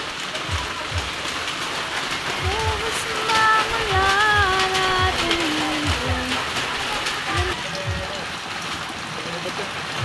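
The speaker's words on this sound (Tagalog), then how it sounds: "Ayan po, kalakas ng ulan." Heavy typhoon Aghon rain pours down in a dense, steady hiss, with thumping impacts and voices talking over the downpour.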